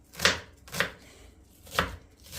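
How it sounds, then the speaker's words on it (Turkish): Three sharp knife strokes on a cutting board, evenly spaced and close, as a medium onion is chopped finely. "Bir tane de orta boy soğanımızı minik minik doğrayalım"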